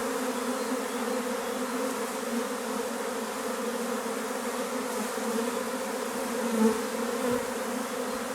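A honeybee swarm that has just poured out of a hive fills the air with a steady, dense drone of many wings. The buzzing stays close and continuous throughout, with no speech.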